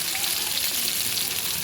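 Potatoes seasoned with turmeric and salt frying in hot oil, a steady dense sizzle holding at an even level throughout, close and alone with no voices.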